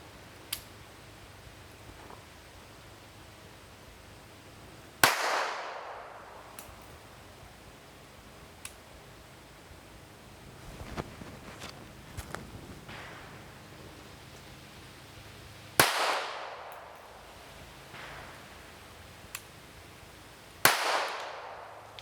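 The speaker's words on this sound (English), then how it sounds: "it's my turn to take my first shots on this little Taurus" Several sharp shots from a small Taurus PT 25 pocket pistol, loud and close at irregular intervals with quiet gaps, one of them followed by faint handling sounds.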